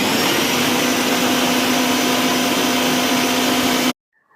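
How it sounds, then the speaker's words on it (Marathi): A food processor grinding soaked lentils into a fine paste in a large bowl, its loud, steady motor whine running continuously for about four seconds before stopping abruptly. "या फूड प्रोसेसर मध्ये डाळ व्यवस्थित बारीक होते."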